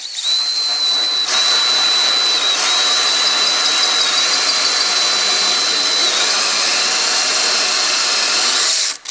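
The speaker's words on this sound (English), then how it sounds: "So we got a hole saw to go ahead and drill this out." A hole saw grinds continuously at full speed into a chest freezer lid, a loud, steady high-pitched whine with rough cutting noise underneath, close by.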